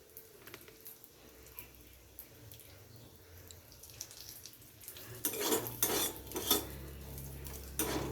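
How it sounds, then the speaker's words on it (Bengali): Cashews frying in a pan on a low flame. Faint sizzling at first, then a run of loud metallic scrapes and clinks from a utensil stirring against the pan. "কাজুটাকে গ্যাসের ফ্লেমটাকে লোতে করে অল্প একটু নাড়াচাড়া করে ভেজে নিলাম"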